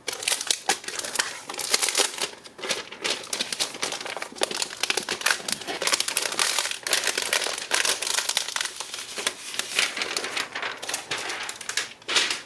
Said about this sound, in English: Get it out of the plastic here.